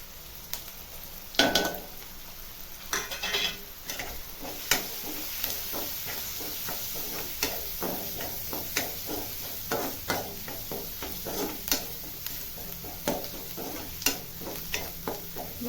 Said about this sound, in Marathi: मसाले चांगले परतून घ्यायचे तेल कांदे आणि आता भाजी टाकून घ्यायला